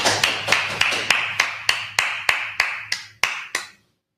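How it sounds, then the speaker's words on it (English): Students in a Hebrew language class clapping for a classmate, about a dozen sharp, evenly spaced claps in a steady beat over roughly four seconds, then stopping abruptly. "clap it up for the brother."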